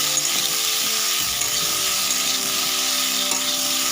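Jujube pickle sizzling in a frying pan as it is stirred, a steady bright frying hiss with faint scraping throughout, close and continuous with no voices.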